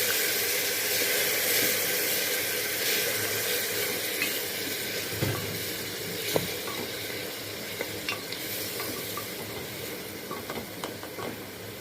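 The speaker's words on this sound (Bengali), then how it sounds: "পেঁয়াজ আমার ভাজা হয়ে গেছে। এখন মশলা দিব। আদা, জিরা এবং রসুন পেস্ট ১ চা চামচ" Onion frying in a pot with ginger, cumin and garlic paste for lentil-and-rice khichuri, a steady close sizzle with scraping stirs and a few sharp clinks of the spoon, no voices.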